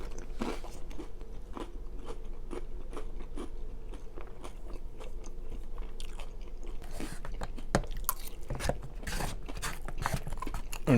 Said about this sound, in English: And chips, for the most part, are mostly still crunchy.